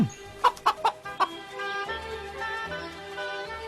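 Four quick, sharp chicken clucks in a row, close and fairly loud, followed by a steady tonal hum with no clucking.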